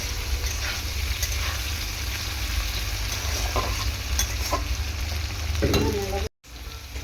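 Potatoes fry in hot oil, a continuous crackling sizzle with occasional scraping stirs in the pan, ending in a brief dropout.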